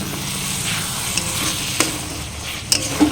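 Masala for a Bihari chicken curry sizzling on low flame in a pan while a ladle mashes and stirs it, steady frying hiss with soft scraping and a few sharp metallic clinks near the end.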